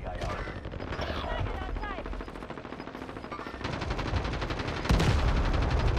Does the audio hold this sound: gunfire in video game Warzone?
yes